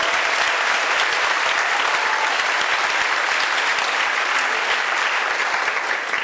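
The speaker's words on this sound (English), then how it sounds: "how about a nice round of applause for Mrs. Moore and Mrs. Rivera for doing a great job" Sustained, dense applause from an audience at a senior awards ceremony fills the room, steady and loud throughout with no pauses or speech.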